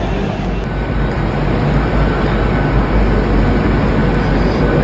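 A train at a railway station platform produces a loud, steady rumble that continues throughout, with no voices.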